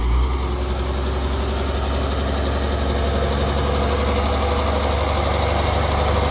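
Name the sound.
Ford 7840 tractor engine pushing a tree stump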